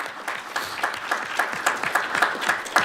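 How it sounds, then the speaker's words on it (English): A community meeting audience on affordable housing breaks into steady, dense applause, a brief close round of many hands clapping with no talk over it. "Round of applause for all of you."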